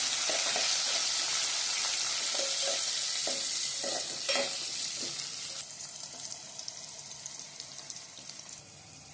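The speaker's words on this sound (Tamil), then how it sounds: "பூண்டு, கருவேப்பிலை, வெங்காயம் சேர்த்து நல்லா வதக்கணும்." Garlic, curry leaves and onion sautéing in a pan for a Tamil fish curry, a steady sizzle with scattered stirring clinks and scrapes that grows quieter and thinner toward the end.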